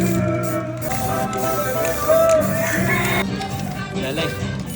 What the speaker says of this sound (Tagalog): Tapos itong ilalim, spray na rin natin para hindi kagad mabulok.